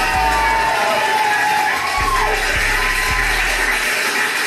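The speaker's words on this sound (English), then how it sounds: "give him a round of applause" A studio audience at an interview show claps and cheers loudly and continuously, with whoops and shouts over dull, deep thumps.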